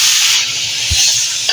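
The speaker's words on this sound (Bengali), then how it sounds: "চাল ভাজা হয়ে গেছে, গরম জল দিয়ে দেবো" Hot water poured onto dry-fried rice seasoned with cumin and coriander powder sets off a loud, steady hiss of steam and sizzle, with one brief low thump partway through.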